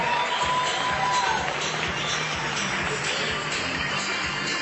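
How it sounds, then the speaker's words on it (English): A live audience at a Tecademics affiliate program event cheers and applauds for Saj P, a broad, steady roar of crowd noise filling the space without a break. "Let's give Saj P a huge round of applause."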